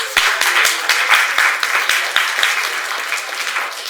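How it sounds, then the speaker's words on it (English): A crowd applauds steadily, many hands clapping in a dense, sustained burst that fades slightly toward the end. "Round of applause."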